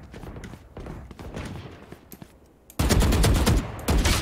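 Rapid Vandal rifle fire in Valorant deathmatch on the Ascent map, scattered shots giving way to a loud, close sustained burst of automatic fire toward the end.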